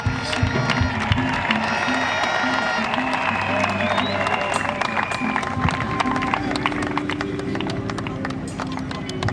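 A church congregation applauds and cheers to acclaim the Lord, producing a dense, steady wash of clapping and crowd voices with sustained sung or instrumental tones running through it from start to finish.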